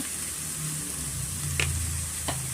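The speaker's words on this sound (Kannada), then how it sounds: "ಬೆಣ್ಣೆನಲ್ಲೇ ಈರುಳ್ಳಿನ ಚೆನ್ನಾಗಿ ನಾವು ಫ್ರೈ ಮಾಡ್ಕೊಬೇಕಾಗುತ್ತೆ ಮೀಡಿಯಂ ಫ್ಲೇಮಲ್ಲೇ ನಾವು ಫ್ರೈ ಮಾಡ್ತೀವಿ" Onions frying in butter on a medium flame for a spinach and chickpea curry, a steady close sizzle with a low hum beneath and two brief sharp clinks of a utensil against the pan.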